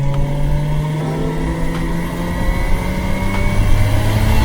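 A Jeep Cherokee XJ fitted with a 1JZGTE engine accelerates under turbo boost, its engine note rising steadily and growing louder from inside the car, with no talk over it.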